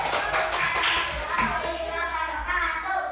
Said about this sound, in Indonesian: Oke, kasih tepuk tangan dulu untuk kelompoknya Mbak Naswa.